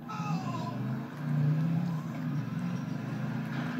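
A car drives in the game GTA, a steady engine drone with some rising tones and a brief swell of revving, heard moderately loud with faint background sounds.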